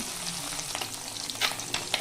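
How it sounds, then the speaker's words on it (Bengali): Small mourola fish, rubbed with salt and turmeric, fry in mustard oil with a close, continuous sizzle. Light scraping clicks from stirring rise above it now and then. "এই মাছগুলোকে সর্ষের তেলে ভালোভাবে ভেজে নেব"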